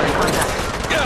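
Continuous rapid gunfire in the Apex Legends Mobile game fills a brief, loud burst, dense and sustained without pauses, with a voice faintly present underneath.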